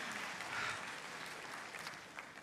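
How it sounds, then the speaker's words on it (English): A roomful of people claps in steady, sustained applause that stays fairly even for its whole length, heard at a moderate distance. "Give Shepherd a big round of applause right there."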